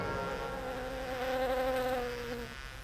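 Steady insect buzzing in the countryside, a continuous droning hum with wavering tonal bands that holds evenly, close and moderately loud, throughout.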